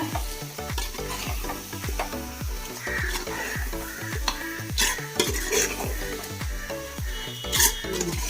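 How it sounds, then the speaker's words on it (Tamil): Chicken with masala, yogurt and lemon stirred in a pan for chicken biryani: a rapid, rhythmic series of spoon scrapes against the pan over a continuous close sizzle. "சிக்கனை போட்டு நல்லா பரட்டி விட்டுக்கோங்க"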